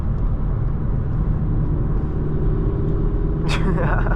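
A small 1.4-litre car engine labours uphill on a night drive, a steady, loud low drone and road rumble heard from inside the cabin, with a brief voice near the end.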